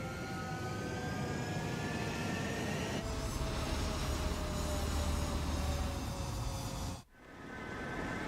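Jet fighters taking off from a runway in Ace Combat 7, a steady roaring engine whine with rising tonal sweeps, growing louder near the end before a sudden brief cutoff, then resuming.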